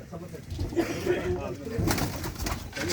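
A pigeon coos softly in low, rolling notes while being held, close by. Someone talks over it at a pigeon club loft.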